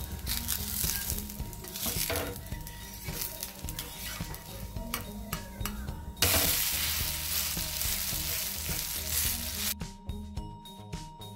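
Adai batter of mullu murungai leaves sizzles and fries steadily in sesame oil on a pan, a close, continuous crackle with occasional clinks of a utensil turning it, briefly louder partway through.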